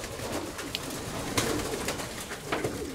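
Pigeons coo steadily and close by, soft throaty calls repeating through a continuous murmur of the flock.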